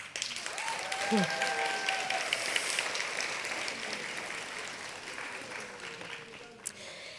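Audience applause at a university School of Education pinning ceremony fills the hall as a steady, sustained clatter of many hands, with a voice speaking faintly over it.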